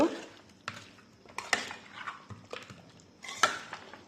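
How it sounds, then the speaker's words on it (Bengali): Chicken curry ingredients with thickly cut onions being mixed in a bowl, giving a few scattered clinks and wet scraping knocks, close and fairly quiet, with no talking. "আবারও সব কিছু ভালোভাবে মিক্স করব।"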